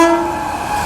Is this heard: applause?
no